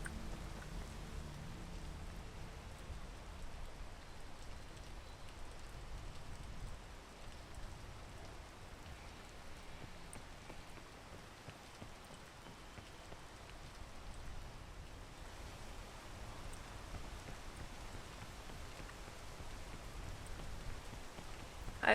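Rain falling in the video game PEAK, a steady, soft hiss of rainfall that continues evenly throughout.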